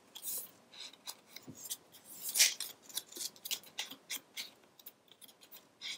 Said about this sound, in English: measure and trim down the centerpiece.